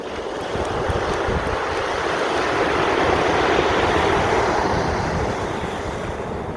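Sea waves and wind on Playa de los Perros beach at Valencia give a steady, loud broadband rush of surf and gusting wind with no pauses or talking.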